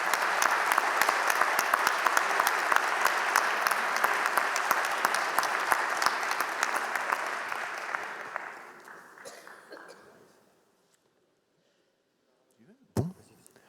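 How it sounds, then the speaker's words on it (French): A conference audience at a national association meeting gives sustained, loud applause for a speaker. It holds for about eight seconds, then fades out into near silence, followed by a short handling knock near the end. "nous invitons à applaudir Francis Robert."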